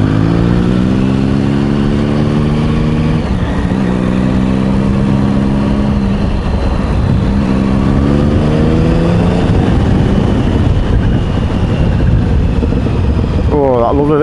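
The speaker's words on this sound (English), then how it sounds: "he's got a race, Triumph original race can on it, race pipe, which gives it that little bit of burble." A Triumph Sprint 1050 ABS motorcycle idles and revs through an original Triumph race exhaust can, giving a low, burbling engine note that rises and falls in several sweeps. Voices talk over it.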